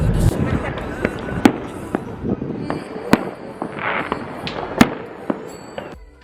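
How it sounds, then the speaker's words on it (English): Fourth of July fireworks at Red Rock Casino in Las Vegas pop and crack repeatedly at irregular intervals, some sharp bursts loud and near, others fainter, over a busy background of crowd noise. "Watch the fireworks at Red Rock Casino."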